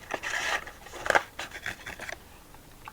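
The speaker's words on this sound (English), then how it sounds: "As we shuffle up these cards" Close, quiet ASMR shuffling of playing cards for solitaire, crisp riffling and scraping bursts in irregular rhythm, with one sharper snap near the middle.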